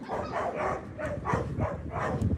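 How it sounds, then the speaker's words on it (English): Dogs bark repeatedly nearby, a fast run of overlapping barks and yips that continues without a break. "sorry, my dogs were going crazy."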